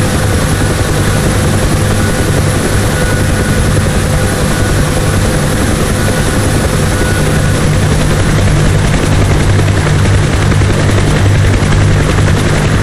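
A UH-1 Huey helicopter in a DCS World flight simulation hovers at low skid height and transitions into takeoff, its loud, steady rotor thump and turbine whine droning without a break.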